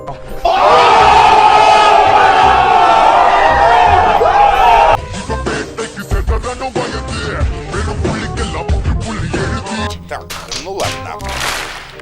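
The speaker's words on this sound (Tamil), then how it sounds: "எல்லாரும் கைத்தட்டி ஆரவாரம் பண்ணி அவரை வரவேற்று பாட வைக்கணும்னு கேட்டுக்கிறேன்" An audience at a show greets a singer with a loud, sustained roar of crowd cheering and shouting, then breaks into scattered, uneven clapping with whoops that continues to the end.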